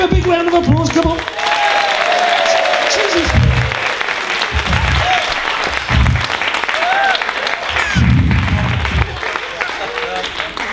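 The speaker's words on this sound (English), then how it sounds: "Round of applause, come on." A crowd at a folk festival gives a round of applause, sustained clapping and cheering outdoors, with a voice speaking over it and a brief exclamation.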